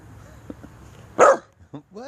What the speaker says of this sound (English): How can you bark and hiccup at the same time?